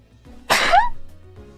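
A single sharp human sneeze bursts out close to the microphone, rising quickly and trailing off into a brief tonal tail, with near silence before and after.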